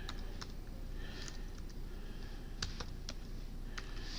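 A search being typed on a computer keyboard, faint, sparse key taps and clicks spaced irregularly over a low steady room hum.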